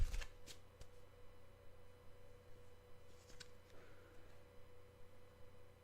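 Tarot cards being shuffled and cut by hand, a few soft riffling bursts early, then quieter, intermittent rustling and card taps over a steady low background hum.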